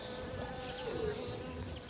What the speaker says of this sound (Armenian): Մեղուներս բզզում են